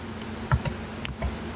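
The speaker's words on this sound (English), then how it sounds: "if I start typing in T," Someone types briefly on a computer keyboard, a few close, crisp key clicks spaced irregularly over a second and a half, with no talk.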